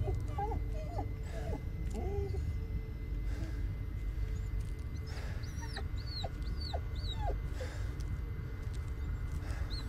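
A dog whimpering in the Blair Witch video game, with soft whines repeating in short high cries against a steady low forest ambience.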